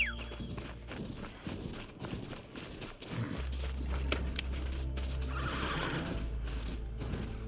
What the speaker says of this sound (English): Come on, horse, where are you?